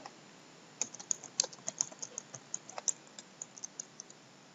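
Typing on a computer keyboard while editing a Windows 7 registry warning message: a quick irregular run of light, close key clicks, some louder taps among them, with no talk.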